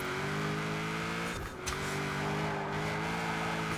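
A 1000 hp all-wheel-drive Subaru in the Forza Horizon racing game gives a sustained, buzzing engine note that dips briefly during a gear change or lift before pulling hard again.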